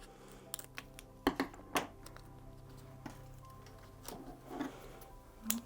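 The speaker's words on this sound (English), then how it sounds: "You can literally just whiz around the edge, trimming that acetate away." Scissors trim acetate around the edge of a handmade card, a string of faint, quick snips and clicks spread irregularly against quiet background.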